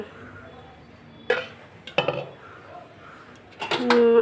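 A metal lid on a pot of pulao cooking on the stove clanks as it is lifted and set back, giving a few sharp, close clinks spread over a few seconds against a quiet kitchen background.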